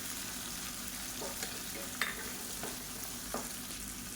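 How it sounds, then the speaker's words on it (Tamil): Drumstick pieces sauté in hot oil in a pan, giving a steady soft sizzle with a few light scraping stirs and clicks, close and fairly quiet, with no talking. "அதை சேர்த்துக்கலாம் சேர்த்துட்டு இந்த எண்ணெயிலே நல்லா வதக்கி விட்டுக்கலாம்"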